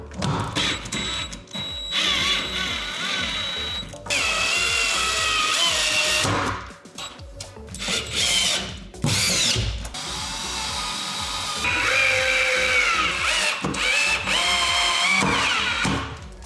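A power drill drives screws to mount a triangle bracket for a desk setup, with loud close whirring bursts that start, stop and rev again, separated by brief handling clatter.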